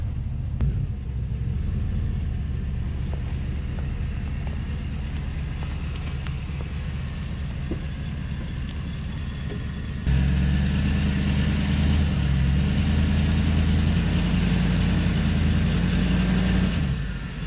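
A Cadillac Escalade 6.0 AWD engine straining to pull out of mud, a steady loud rumble that jumps to a heavier, higher-revving roar partway through and holds there.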